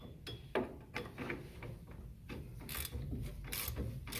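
Ratcheting wrench removing the four axle bolts on a 1964 Ford Mustang rear axle, heard as quick close metallic ratchet clicks in short irregular bursts with clanks of the tool and parts.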